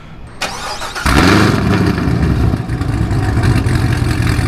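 A modified Corvette ZR1 with long tube headers and an X-pipe cranks briefly, then fires up loudly and settles into a deep, rumbling idle with a few surges of revving, close by.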